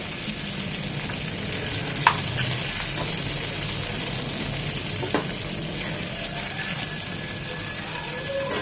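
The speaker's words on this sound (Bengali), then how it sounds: "এই পর্যায়ে চুলার হিট হাই হিটে রাখবেন, তা না হলে কিন্তু চিকেনগুলোতে পানি ছেড়ে দিবে" Chicken pieces fry on high heat for an Eid-style roast, a loud, continuous sizzle with a few sharp clicks of a utensil against the pan.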